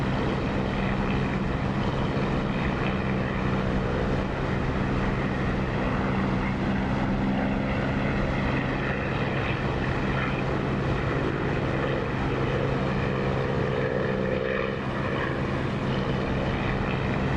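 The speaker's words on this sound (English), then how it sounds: "the sound of this engine, the sound is created by Echo 19" Steady, loud propeller aircraft engine drone from a DCS flight simulator with the Echo 19 sound mod, continuous and unchanging throughout with no talk over it.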